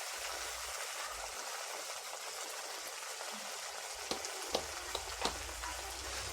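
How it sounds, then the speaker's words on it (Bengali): Spice paste for noboratno, a mixed vegetable curry, fries in oil in a pan, giving a steady soft hiss with a few sharp pops and spatters near the end. "তো মশলাটাকে এবার ভালো করে কষিয়ে নিলাম। এখন মশলা থেকে আস্তে আস্তে তেলটা ছেড়ে দিচ্ছে।"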